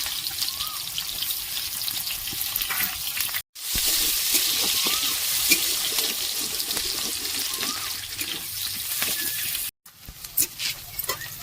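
Chopped onions hit hot oil with cumin, mustard seeds and dried chilli, giving a steady loud sizzle and hiss with brief breaks, close and continuous without talk.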